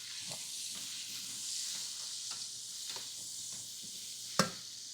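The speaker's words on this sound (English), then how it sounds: "celery, onion, and we'll let that start cooking down a little bit." Celery, onion and carrots sizzle gently in a pan, a soft continuous hiss broken by a few light stirring clicks and one sharper knock near the end.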